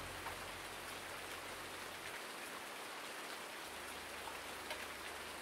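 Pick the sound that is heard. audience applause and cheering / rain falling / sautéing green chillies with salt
rain falling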